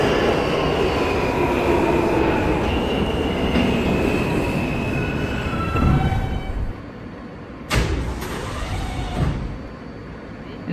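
An R160A G subway train in a Roblox recreation of the IND Crosstown Line runs along the tracks with a steady rumble and rising squeals, then brakes hiss and quiet near the end.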